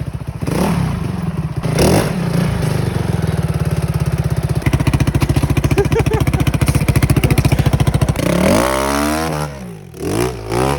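A Yamaha Ténéré motorcycle engine runs loud and close while riding, a steady throbbing idle giving way to a fast rhythmic pulse and then rising revs as the bike pulls away.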